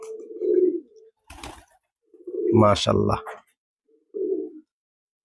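A pigeon coos softly in a few low, separate bursts close by, with someone speaking briefly in between.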